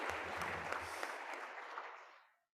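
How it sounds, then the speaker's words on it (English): A closing-ceremony audience claps together in a dense, even burst of applause that holds for about two seconds and then quickly fades out. "how about a round of applause for you guys, please?"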